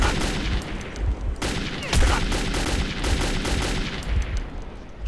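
Sustained bursts of gunfire in the post-apocalyptic shooter Metro 2033, rapid overlapping shots rattling continuously for several seconds, loud and close with a sharp heavier crack near the two-second mark.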